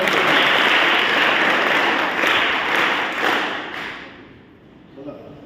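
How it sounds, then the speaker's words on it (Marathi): Loud, sustained applause from a crowd cheering participants in a school food contest, a thick wash of clapping that swells early and gradually fades away toward the end. "सगळ्यांचा जोरदार टाळ्या झालेला आहे"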